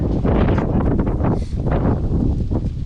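Wind buffets the microphone outdoors in loud, continuous low rumbling gusts among potted bonsai trees, steady throughout with brief dips.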